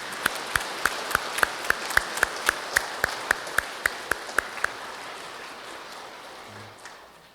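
Thanksgiving applause for parish committee leaders and advisers during an Easter Vigil Mass at Changdong 5 parish church, heard as a steady series of sharp, evenly spaced claps over a hall murmur that fades out.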